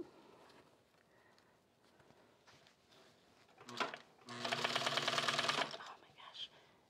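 Sewing machine stitching a box cushion seam, first soft intermittent handling sounds, then a loud close burst of rapid mechanical stitching lasting about two seconds before it stops.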